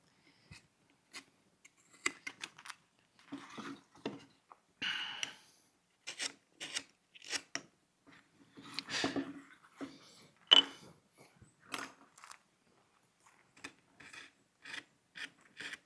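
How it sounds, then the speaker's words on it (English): Wood being carved by hand with a number 3 gouge, a series of short, quiet rasping cuts and scrapes with pauses between, close and fairly faint against a silent background. "Taking this number 3 gouge and just kind of softening his hand"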